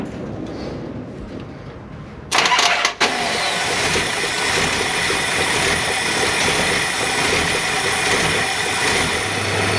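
Project Marsha, a car fitted with a new Edelbrock AVS 2 carburetor, cranks briefly and catches, then settles into a loud, steady idle with a rough rumble close by.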